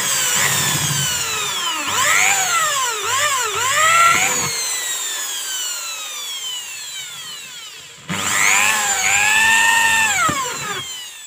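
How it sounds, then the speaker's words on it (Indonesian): Power drill cutting into an aluminium plate while threading it, a whining, high-pitched drilling tone that sweeps up and down in two long bursts separated by a short pause, loud and close with no talk. "sekarang kita akan coba untuk membuat drat di plat aluminium ini"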